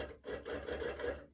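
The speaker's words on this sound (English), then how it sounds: "I'm going to use a basting stitch. So it's going to stitch once every ½ inch." A longarm quilting machine runs a basting stitch, one stitch every half inch, through stretchy double gauze for a kawandi quilt, producing a quick, soft, rhythmic mechanical chatter with brief pulses.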